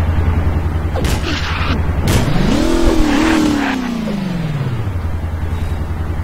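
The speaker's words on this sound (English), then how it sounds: "I'm now gonna ride a bus down" A bus drives through the Garry's Mod game world, its engine note climbing and then falling in a long drawn-out sweep. Sharp bangs and clatter cut in near the start, and the whole passage stays loud and close.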